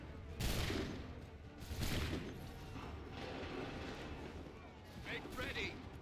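Musket volleys crack out in Assassin's Creed III, several broad loud bursts of gunfire spaced a second or so apart, with battlefield noise and shouted commands between them.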